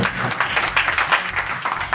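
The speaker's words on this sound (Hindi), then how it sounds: "जोरदार तालियां" Audience in a hall clapping with both hands, a dense, steady burst of applause at close range lasting a couple of seconds.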